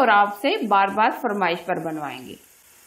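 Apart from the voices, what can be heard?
None of the usual background noises is heard.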